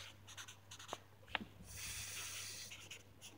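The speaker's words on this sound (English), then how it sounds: "Okay, time to write a complaint to Starbucks." A pen scratching out a complaint letter to Starbucks, with short strokes and soft scribbles close by and quiet, and a faint steady hum underneath.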